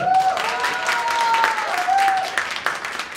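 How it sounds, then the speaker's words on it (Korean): An audience at a Korean performance troupe's fan meeting and year-end party claps for the fan café host, a close, lively burst of applause with whistle-like tones and voices over it. "박수 한번 주세요."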